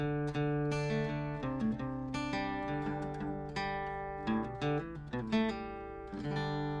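A guitar plays a well-known riff, with strummed chords and short melodic licks, steady rhythm, close and clear with no talking.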